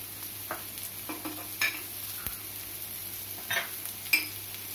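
Chicken 65 marinade ingredients being mixed by hand in a bowl, soft wet stirring and light scraping at a steady pace over a constant background hum, close by, with no voices.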